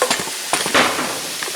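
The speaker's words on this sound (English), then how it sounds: "we've been sweating the onions down for about 5 minutes or so" Chopped onions sweating in a pan, a soft close sizzle with brief stirring scrapes over about a second and a half.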